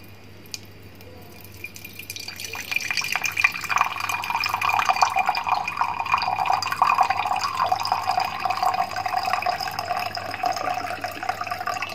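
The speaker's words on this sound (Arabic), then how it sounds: "هملى ديت ميه على قد كوبايه" A cup being filled with water from a tap, a steady stream running and splashing into the vessel after a short quiet start, close and continuous with no talking.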